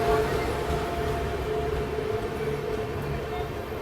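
The ANVT Rewa Express overtakes on the line, a steady, broad rumble and rushing roar with faint metallic whine, heard from fairly close throughout without a break.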